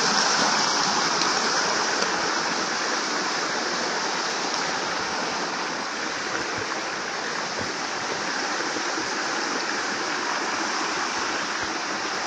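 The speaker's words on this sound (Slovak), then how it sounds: "Tiež tu tečie potok" A stream flows near a rocky reservoir bay on a rainy day, a steady broadband rush of water that stays close and constant for about twelve seconds with no talk.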